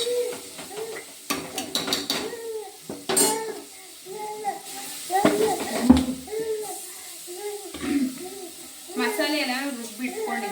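Ground masala tipped into a cooking pan, with metal clinks and scrapes of a spoon against the pot and a soft sizzle, while people talk nearby throughout.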